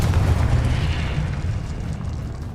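Confringo fire-blast spell exploding in Hogwarts Legacy, a loud, rumbling boom with heavy low-end that sustains and slowly fades across the moment, with no voices over it.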